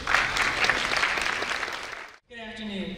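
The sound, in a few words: audience applause at plaza dedication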